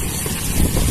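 Strong wind battering the microphone outdoors in a gale, a loud, rumbling buffeting roar that swells and gusts harder toward the end.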